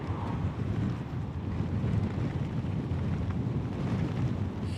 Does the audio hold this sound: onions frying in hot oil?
no